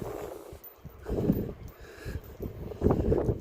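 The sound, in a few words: wind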